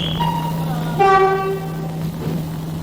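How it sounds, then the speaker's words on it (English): A heritage train on the Keighley & Worth Valley Railway pulls out of Keighley station, bound for Oxenhoe. A steady low rumble runs throughout, and a clear, loud horn toot sounds for about half a second partway through. "the former train pulls out of Keighley station, bound for Oxenhoe."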